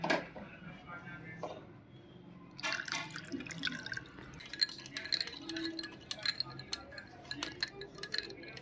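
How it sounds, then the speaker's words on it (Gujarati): Water poured into a glass of raw mango syrup with ice, a close trickling splash with small drips and clinks against the glass continuing for several seconds, while a voice talks quietly at the start. "થોડું પાણી એડ કરી દઈશું."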